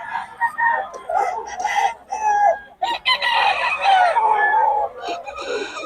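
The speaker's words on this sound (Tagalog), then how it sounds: "Ang gulo ng manok." Several chickens cluck and squawk loudly and close by while a rooster crows in repeated drawn-out calls, a busy, overlapping barnyard clamor with brief pauses.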